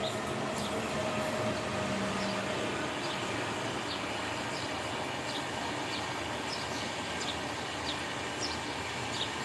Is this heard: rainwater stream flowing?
no